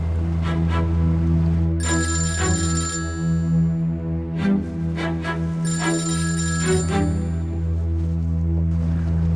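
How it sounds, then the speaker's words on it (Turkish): A telephone rings in repeated bursts, loud and close, over a steady low hum, with two clear ring cycles separated by a pause. "Şimdi telefon ediyor ama."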